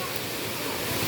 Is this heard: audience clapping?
no